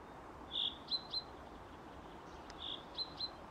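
Birds chirping in the video game Sally Face: two short bursts of high, bright tweets, each a trill followed by a couple of quick chirps, fairly faint over a quiet background hiss.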